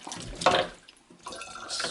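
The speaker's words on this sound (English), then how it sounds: "Squeezing it through the Sawyer squeeze." Water squeezed through a Sawyer squeeze filter from a soft pouch into a 1.5 liter plastic bottle, a close trickling and splashing stream that surges, fades briefly, then resumes steadily.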